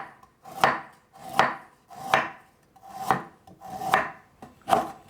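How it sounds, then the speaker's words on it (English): A knife slices galangal thinly on a cutting board, giving six evenly spaced, crisp chopping strokes that are close and clear, with no voices. "we're going to cut this galangal. So all we're going to do with this, we're going to just slice this thinly"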